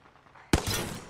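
A single loud gunshot blast bursts out of near silence in an Apex Legends battle, then a sustained rattle of fire and noise follows, loud and close with no talk.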